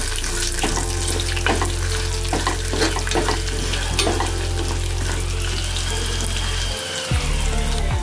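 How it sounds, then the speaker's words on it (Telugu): Dried red chillies, coriander seeds and cumin frying in hot oil in a kadai, a steady close crackling sizzle with scraping stirs, a low hum beneath and a brief dip near the end. "ఇప్పుడు దీనిలో ఎండుమిర్చి, ధనియాలు, జీలకర్ర వేసుకుని ఫ్రై చేసుకుందాం"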